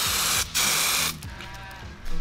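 Superwrap coating being sprayed onto a wheel comes as close, hissing bursts from the spray can, one long blast and then a second after a short pause, with a faint mechanical rattle underneath.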